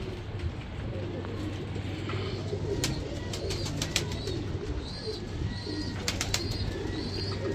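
Teddy pigeons coo softly, with a few chirps and bird calls scattered over a steady background hum, a voice faintly present underneath.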